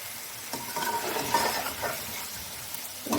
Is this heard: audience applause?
no